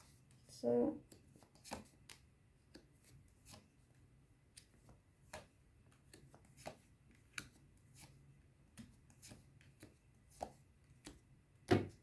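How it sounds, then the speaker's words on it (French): Tarot cards being turned over and laid out one by one during a card reading, producing soft, sporadic papery flicks and slaps close by, with a louder rustle near the start and end and a faint steady hum beneath. "je... retourner les cartes"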